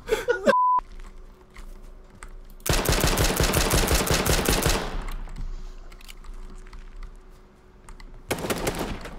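Rapid automatic gunfire in the battle royale game H1Z1, two loud sustained bursts of closely spaced shots separated by a quieter stretch, with a short beep at the start and no talking over the shots.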